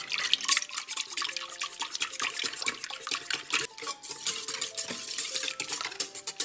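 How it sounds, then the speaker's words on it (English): Whisk stirring sourdough cinnamon roll ingredients in a bowl, a steady run of quick wet scraping and clinking strokes, close and continuous with no talking. "I'm gonna give everything a nice stir with my whisk."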